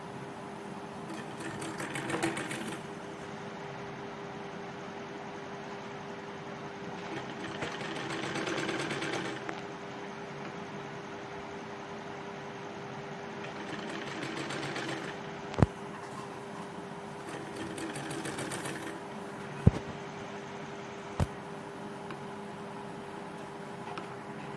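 A sewing machine stitches a 1.5-inch fabric strip onto a kurti sleeve, giving a faint steady mechanical whir in several stretches with quieter gaps and a few sharp clicks.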